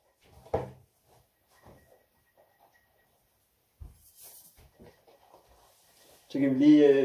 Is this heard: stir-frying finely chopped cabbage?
no